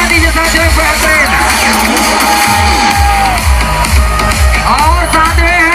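A large outdoor crowd at a star's stage arrival in Chhattisgarh keeps up loud, continuous cheering and yelling, with a thumping beat and amplified music running underneath.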